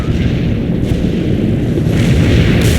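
A heavy video game artillery strike lands as a loud, sustained rumbling barrage that roars on continuously and close throughout.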